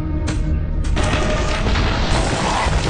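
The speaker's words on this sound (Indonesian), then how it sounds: "Tetapi ketika Lin melemparnya, buah tersebut benar-benar meledak dan cukup kuat untuk meledakkan seekor sapi." Prehistoric exploding fruit blowing up in a film, heard as a loud, dense boom that starts abruptly and rumbles on for several seconds with a broad, roaring blast texture, up close and with no voices.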